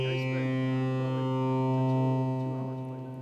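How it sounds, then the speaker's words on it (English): A Pittsburgh Modular Microvolt 3900 synthesizer plays a half-wave rectified sine wave. It holds a steady, buzzy, harmonically rich drone at moderate level for a few seconds, with no voice over it. "It's a half-wave rectified sine wave that allows you to add a few more harmonics onto"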